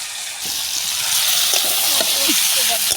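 Chicken meat frying in a pan at a small home picnic, a loud, steady sizzle and hiss close by, with a person speaking softly underneath.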